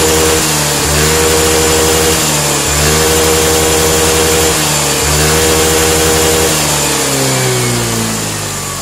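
A Yamaha Fino 125 scooter engine being revved in a workshop, several repeated throttle blips that climb and settle back to idle, loud and close with no talk.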